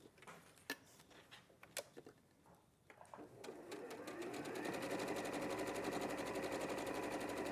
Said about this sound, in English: What sewing machine is being used, please?